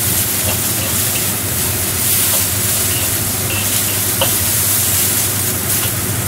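Minced garlic and sugar frying in a pan over raised heat, giving a loud, steady, dense sizzle with faint clicks and clatters of stirring, close up and continuous throughout.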